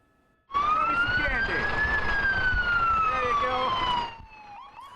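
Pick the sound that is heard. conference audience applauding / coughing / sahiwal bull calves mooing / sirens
sirens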